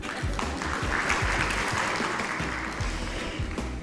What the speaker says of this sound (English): Clap for her again.